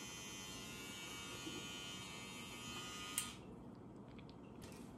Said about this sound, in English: So here's the shaver.